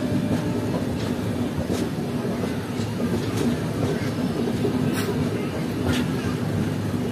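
The Digha to Howrah Tamralipta Express runs on the main line near Mecheda, heard from inside the coach as a continuous rumbling roar with periodic clickety-clack beats from the rails and faint indistinct voices underneath.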